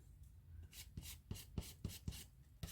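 A plastic card scraping paint across an art journal background page, a series of quiet rhythmic rasping strokes, about eight in quick succession, close and faint.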